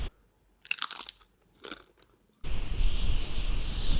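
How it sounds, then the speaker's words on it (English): Corn chips being munched, with two short crunchy bites and then a steady loud crackling chew close to the ear. "whilst you're munching on a packet of corn chips on the couch"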